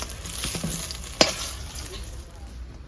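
Eggplant sizzling as it fries in hot oil for a spicy fish curry with potato and eggplant, a steady close crackle with a brief sharp clatter near the middle and no talk.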